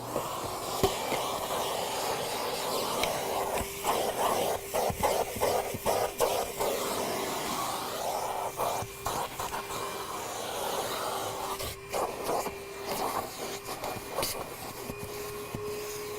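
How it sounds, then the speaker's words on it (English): A vacuum cleaner works over car seat upholstery, its steady suction whine running throughout with frequent short dips and bumps as the nozzle is moved around the seams, no talk present. "All right, we're going to vacuum."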